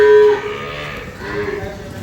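A dairy cow lows loudly and close by, one long moo followed by a second, rougher bellow with a low, steady drone underneath.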